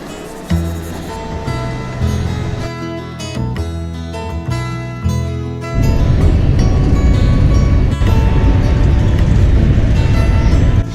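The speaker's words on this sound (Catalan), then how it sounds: "Hablo Renfe, os da la bienvenida a este tren con destino Madrid" Inside a moving Renfe passenger train bound for Madrid: a melodic onboard chime plays first, then a steady, loud rolling rumble fills the carriage for the rest of the stretch.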